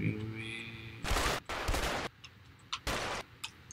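Gunfire in the video game A Way Out comes in loud, dense bursts with short gaps between them, followed by sharper isolated shots. A voice or tone is heard briefly before the shooting starts.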